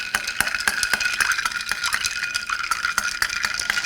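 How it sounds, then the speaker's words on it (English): A spoon briskly stirring a Madagascar vanilla creme cocktail with simple syrup in a cup, its quick, steady clinks against the sides ringing bright and close, with no talking. "I'm gonna go ahead and stir that"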